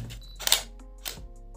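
A Canon 1500D DSLR shutter fires, giving two crisp mechanical clicks about half a second apart, close to the microphone and otherwise quiet.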